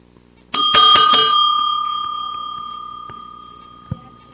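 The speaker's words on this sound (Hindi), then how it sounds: "जहां घंटी बज गई वहां मुकाबला खत्म।" A bell rings to close a round of a Bait Bazi poetry competition in Aurangabad, struck in a quick burst of three or four bright metallic rings that then hang and fade slowly, followed by a faint low knock.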